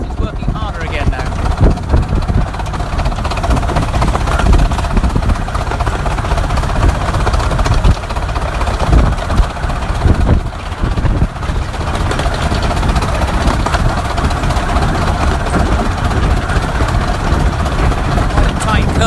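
The miniature steam locomotive Northern Chief works harder on the open regulator, its steady chuffing exhaust loud and close from the footplate, blended with running noise and a voice talking over it.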